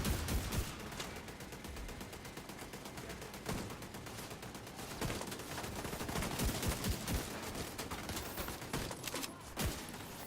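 Weapons fire in the video game The Division 2 as rapid, continuous automatic shots rattle for the whole stretch, with a few heavier bursts standing out against the dense volley.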